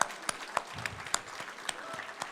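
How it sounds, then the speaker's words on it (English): A crowd claps steadily, with sharp individual claps standing out from a continuous patter of applause. "Let's give her a big round of applause."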